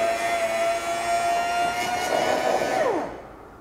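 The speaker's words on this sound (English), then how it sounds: "I'm actually going to use the vac. The pump." A vacuum pump drawing off beer runs with a loud, steady whine and hiss, then its pitch drops sharply as it winds down near the end, leaving a quieter hum.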